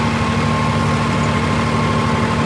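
A Swaraj 969 CRDi tractor engine runs steadily with a loud, constant low rumble and vibration, close by and alone without talk.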